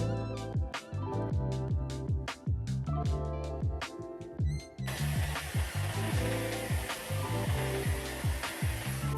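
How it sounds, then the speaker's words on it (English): Hair dryer blowing on a glued hair weave track, steady airy whoosh close to the mic, preceded by a series of sharp clicks and taps. "just a little blow dry"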